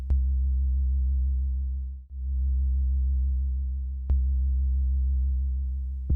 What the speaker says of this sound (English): by taking this envelope generator knob down, we're giving it more of a kick bass type feel